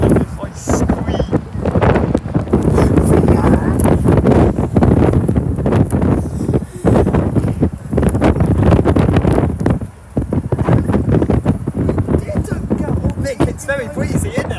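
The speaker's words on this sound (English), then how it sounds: "it's very breezy, isn't it?" Strong wind buffets the microphone steadily on the open top deck of a City Sightseeing sightseeing bus riding through Bournemouth, a loud, continuous rumbling roar with people talking underneath.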